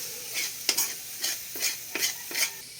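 Corned beef with egg cooking in a pan, stirred in a regular rhythm of five or six scraping strokes over a soft sizzle, close and without talk.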